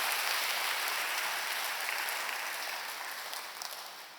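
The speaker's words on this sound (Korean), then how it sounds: "여러분 그 박수로 환영하시죠." A church congregation applauds to welcome a new minister, a dense, even wash of clapping from many hands that holds steady and then slowly fades out toward the end.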